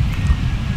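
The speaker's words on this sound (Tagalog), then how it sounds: "grabe, lakas ng hangin" Strong wind at a seaside cove in San Antonio, Zambales buffets the microphone in low, uneven gusts, a brief close rumble with no one talking.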